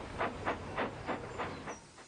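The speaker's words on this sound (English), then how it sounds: "he puffed, and he chuffed off to Gordon's Hill." A steam tram engine in the Trainz video game chuffs in a steady, even rhythm of about seven soft puffs, hissing and fairly faint, with no voices.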